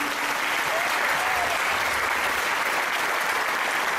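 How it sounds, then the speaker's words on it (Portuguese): A church congregation at a Mass applauds steadily and warmly, a dense wash of clapping that holds at an even level throughout. "Vamos aplaudi-los?"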